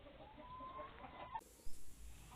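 Native Thai village chicken clucking softly at a distance amid faint outdoor background noise, with a couple of brief louder bursts near the end.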